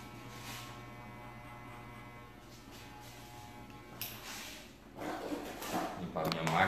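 Electric hair clipper running at a steady, close buzz during a traditional fade haircut, with louder rustling and clattering handling noises building near the end.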